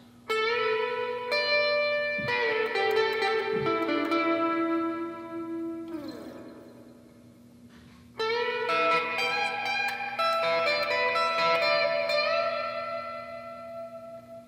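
Distorted electric guitar solo, heavy with effects, echo and reverb, played alone in sustained bent phrases with a brief drop in the middle before loud notes return.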